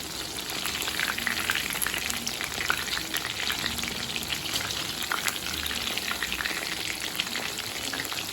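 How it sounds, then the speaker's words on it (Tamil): Pieces of street-style chicken pakoda fry in hot oil over a medium flame, giving a steady, dense sizzle and crackle that holds at an even loudness throughout, with no voices. "இப்போ எண்ணெயில் போட்டு பொரிக்க ஆரம்பிச்சிடலாம்."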